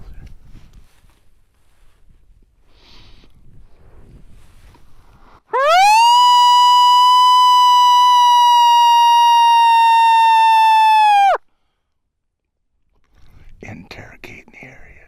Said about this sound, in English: Start her off with a double howler here.